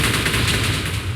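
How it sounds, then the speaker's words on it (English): Erupting TNT explosions in a Minecraft mod: a dense, loud barrage of crackling blasts, with pieces of TNT bursting and hitting the ground in rapid succession, continuous with no pauses and no voices. "Shoots a ton of pieces of TNT up, and each one blows up and hits the ground with a nice little explosion."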